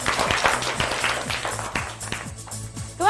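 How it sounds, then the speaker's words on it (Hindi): A school-day event audience applauds, a dense run of rapid hand claps that thins slightly midway and swells again at the end. "अनिकेत, तो इनके लिए जरा जोरदार तालियां।"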